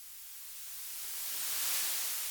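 A white noise sweep effect for drum and bass rises gradually from quiet to a broad hissing peak, then eases back slightly, heard alone with no voices.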